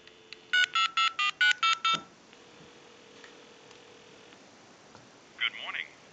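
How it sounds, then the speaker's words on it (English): Touch-tone dialing on a railroad candlestick telephone converted for tone dialing: seven crisp, evenly spaced DTMF beeps in quick succession, followed by a faint hum and a brief burst of ringback or line noise near the end. "We'll go ahead and dial that number."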